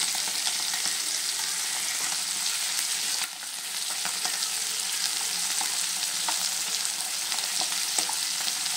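Jiol fish frying in a pan gives a constant bright, hissing sizzle close by, briefly dipping partway through, with light utensil taps scattered across it.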